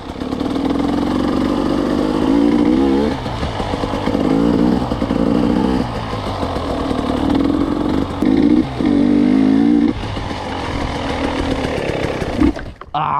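A motorcycle engine runs close and loud throughout, with steady revving and brief dips as the rider brakes hard into a stoppy wheelie, then a short drop-off near the end.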